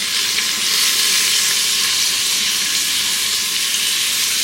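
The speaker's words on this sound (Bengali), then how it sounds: "পেঁয়াজটা ভাজা হবে।" Finely chopped onions fry in a NutriPot pressure cooker pot, giving a steady, loud, close hiss and crackle of sizzling oil that runs without a break, with no talk over it.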